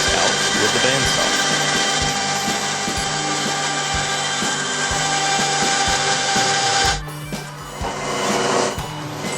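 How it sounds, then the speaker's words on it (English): A bandsaw cuts through wood for a planter box with mortise and tenon joinery, a loud, steady whine with short pulses as the blade bites, then winds down near the end. "now I'm cutting those marks out with the bandsaw."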